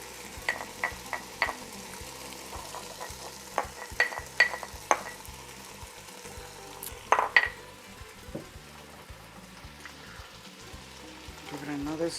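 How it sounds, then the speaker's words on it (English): Garlic cloves fry in a pot of vegetarian chili while a utensil stirs them. A low, steady sizzle runs throughout, with light scraping and clinking from the stirring, quiet and close. "give it another stir"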